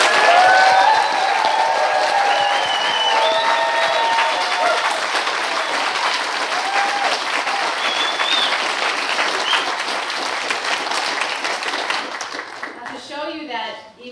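Loud, sustained audience applause at an eighth grade graduation ceremony for twelve graduates, with a dense wash of clapping that stays steady and then fades near the end, while a voice talks over the start.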